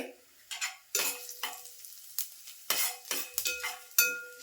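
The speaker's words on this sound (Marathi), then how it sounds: "मसाले परतून झाले आता थोडंसं मी जिरं टाकते" Whole cumin and spices frying in oil in a pot for a white chicken pulao, with a steady sizzle broken by repeated scraping strokes of a spoon against the pot.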